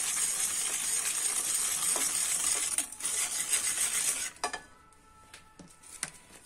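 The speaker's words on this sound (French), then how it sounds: "Vous mélangez le jaune d'œuf et le sucre." Egg yolk and sugar being mixed in a bowl for a creamy yogurt raspberry cake: a steady, close scraping whir for about four seconds, then it stops, leaving a few scattered light clinks.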